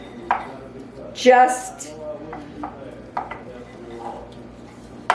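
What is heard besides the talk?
mashing fruit pizza topping with a wooden spoon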